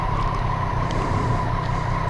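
A 2018 Triumph Street Triple 765RS motorcycle is being ridden, giving a steady engine drone mixed with rushing wind noise at constant volume, with no one speaking.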